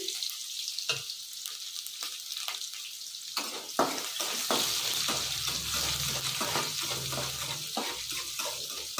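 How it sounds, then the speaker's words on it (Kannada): Curry leaves and onions, added after mustard seeds and garlic, fry in hot oil in a pan for a drumstick fry, a steady close crackling sizzle broken by scraping stirs, with no one talking. "ಕರ್ಬೇವು ಹಾಕ್ತಾ ಇದ್ದೀನಿ ನೋಡಿ ಈರುಳ್ಳಿನೂ ಹಾಕ್ತೀನಿ ಇವೆಲ್ಲ ಚೆನ್ನಾಗಿ ಫ್ರೈ ಆಗಬೇಕು"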